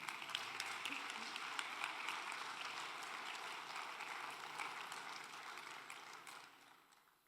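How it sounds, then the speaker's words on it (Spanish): A church congregation claps steadily during a sermon in a dense, sustained wash of applause at moderate distance, fading out toward the end. "Den un aplauso a Dios,"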